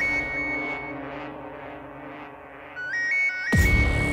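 An electronic phone ringtone plays a short beeping melody of high tones, cut off by a sudden loud burst of noise at the end.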